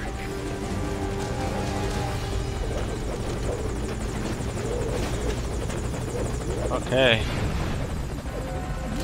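A helicopter's rotor in Metal Gear Solid 5: Ground Zeroes drones loudly and steadily throughout, with a brief voice speaking over it near the end.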